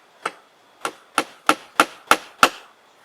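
Seven sharp hammer blows drive nails into wooden boards while building a mini pole barn, close and loud, spaced at a steady, slightly quickening rhythm with no talking.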